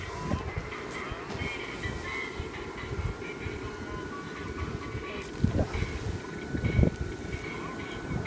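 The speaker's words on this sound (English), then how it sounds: "It's starting to get windy." Steady low rumbling wind buffets the microphone outdoors beside a 10 ft inflatable, with a few stronger gusts swelling near the end.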